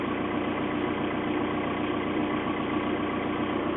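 A modded motor running cold with a slight misfire idles steadily, a loud, close, continuous rumbling drone with faint irregular flutter and no talk over it.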